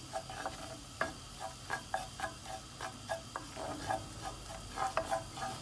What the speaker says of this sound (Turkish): Şimdi içerisine bir yemek kaşığı un ilave ediyorum ve güzelce kokusunun çıkmasını sağlıyorum unun.